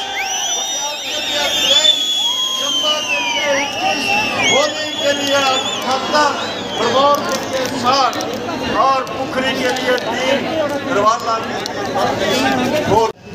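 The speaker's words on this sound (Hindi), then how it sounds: "तो गाइस यार इस भीड़ को चेक करो" A huge outdoor crowd at Chaugan ground in Chamba, gathered to see Prime Minister Modi. Dense, loud chatter and hubbub fill the whole stretch, with a nearby voice talking over the crowd.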